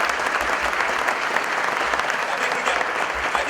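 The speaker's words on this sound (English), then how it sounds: "Please give them a round of applause." A full hall applauds steadily at a State of the County address, a dense, even roar of clapping from a large crowd that holds without a break.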